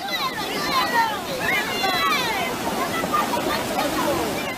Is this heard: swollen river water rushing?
yes